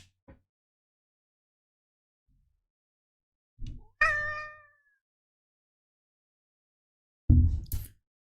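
A big ragdoll cat meows indoors: a soft short call, then a clear drawn-out meow, and a final louder rough meow after a pause, each alone with silence between.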